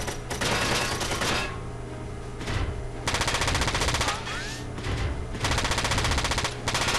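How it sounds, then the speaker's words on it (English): Rapid machine gun bursts in a Football Manager match-engine-style combat game, loud sustained rattling volleys in several stretches separated by brief gaps, with faint whistling shots mixed in. "Oh, God, the machine gun guys are annoying."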